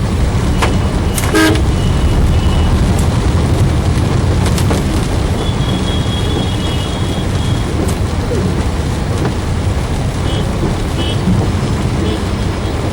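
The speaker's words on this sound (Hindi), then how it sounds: "आश्रम फ्लाईओवर के पास कंस्ट्रक्शन के कारण देखिए कितना भयंकर जाम है।" Dense, gridlocked traffic near Delhi's Ashram flyover, slowed by construction on rain-soaked roads, with a steady roar of engines and repeated car horns honking close by, some sharp toots and a few longer blasts.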